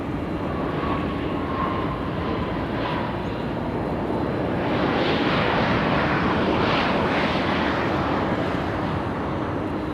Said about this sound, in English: SkyWest 5579 flying in from Redding, California.